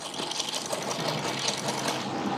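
A sewing machine runs a steady straight stitch on fabric with the presser foot lowered, a continuous fast mechanical whirr and rattle that stays even and close throughout, with no talking.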